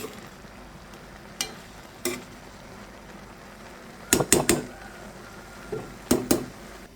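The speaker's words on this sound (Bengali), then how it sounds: "এখন আবার একটু নেড়ে চেড়ে দিচ্ছি" Chal kumra (ash gourd) cooked with masoor dal gets stirred in a pan over high heat, with sharp metal scrapes and clatters of the spoon against the pan coming in short bursts and clusters over a faint low sizzle.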